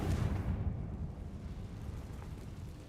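A Confringo blasting curse explodes in Hogwarts Legacy, a single muffled low boom that rumbles and fades over a few seconds.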